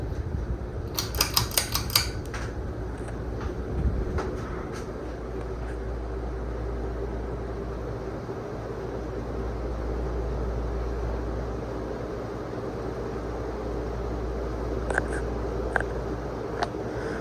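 Two 52-inch Encon Contempra Supreme Hugger ceiling fans run on high, giving a steady low whooshing hum and airy rush that continues throughout, with a few faint clicks and ticks near the start and again toward the end.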